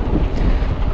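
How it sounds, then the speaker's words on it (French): Wind rises during a mountain bike ride in the countryside, a loud, blustery rumble buffeting the microphone throughout the short moment without any talking. "le vent commence à se lever"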